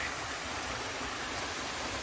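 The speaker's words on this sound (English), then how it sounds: "And there's the creek" A creek flows beside a hiking trail along a road, giving a steady, even rush of moving water at moderate distance with no talk over it.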